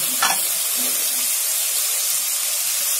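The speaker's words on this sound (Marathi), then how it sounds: "नंतर कढीपत्ता, हे व्यवस्थित भाजून घ्यायचं, एकजीव करून घ्यायचं." Curry leaves roasting in a pan for Malvani vada pav give a steady hissing sizzle close up, with one brief stirring scrape near the start and quiet spoon movement after.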